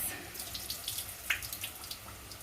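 Rice being rinsed in a bowl of water, with close, soft sloshing and trickling splashes in a quick irregular rhythm, no voices.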